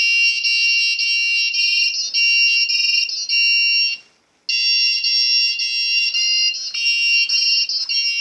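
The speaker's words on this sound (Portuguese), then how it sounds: "a música mais clássica tocada em todos os buzzers pelo mundo" A piezo buzzer wired to an Arduino plays a well-known classic tune as a loud, shrill series of electronic beeps, with one brief gap partway through.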